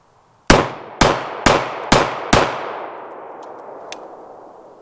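A Wilson Combat ULC Sentinel 1911 pistol fires five sharp reports about half a second apart, each with a ringing decay, followed by a long fading tail and a faint later click.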